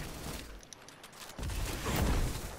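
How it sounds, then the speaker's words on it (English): A grenade blast in a shooter video game, a broad rumbling burst building midway and lingering loudly for over a second, with scattered gunfire-like crackle before it. "That grenade is pretty harsh there."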